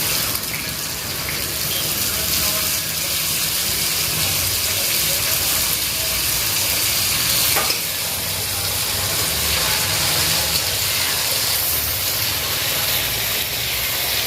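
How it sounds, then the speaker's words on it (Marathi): Tomatoes hit a hot pan of masala macaroni, setting off a loud, continuous sizzling hiss that stays close and steady, broken by one sharp click partway through. "आता आपण याच्यात टमॅटो टाकून घेणार"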